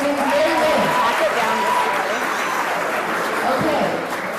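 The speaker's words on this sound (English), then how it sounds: "So give her a round of applause." Applause for a painter from an audience at a poetry night in St. Mark church, Scarborough, Ontario: a steady, fairly loud wash of clapping that runs the whole time, with voices mixed in.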